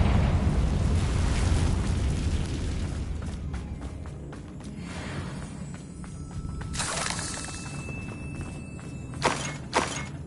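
Confringo blasting spell going off in a Harry Potter video game, a shattering burst followed by rumbling debris and clatter, then a few sharp thuds near the end.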